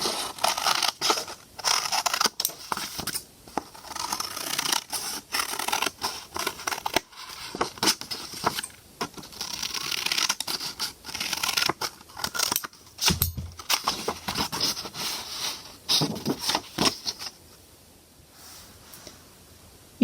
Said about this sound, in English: You should spend a few minutes cutting out all your circles.